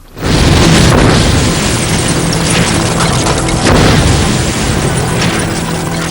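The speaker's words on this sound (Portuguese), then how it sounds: "A explosão estilhaça a mesa pesada." A massive explosion blasts apart a heavy table in a staged demolition, a loud sudden boom followed by sustained roaring debris and crackling rumble that fills the whole stretch without any voices.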